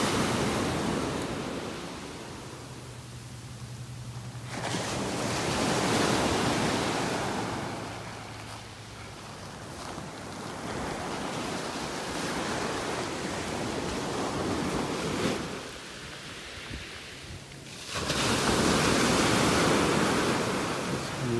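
Ocean waves roll onto a beach in North Naples, Florida, a broad surging wash that swells and recedes in several slow cycles, with some wind buffeting and no voices.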